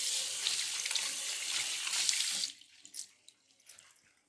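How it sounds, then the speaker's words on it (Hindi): Hands are washed under a running kitchen tap: a steady, close rush of water for a couple of seconds, then the flow stops and a few splashes and drips follow. "तो पहले हम हाथ तो धो लें।"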